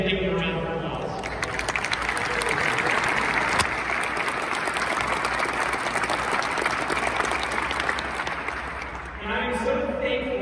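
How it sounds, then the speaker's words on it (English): Sustained audience applause at a military retirement ceremony for a brigadier general, loud and steady for about eight seconds, with voices at the start and end. "would you guys please stand and give me a round of applause?"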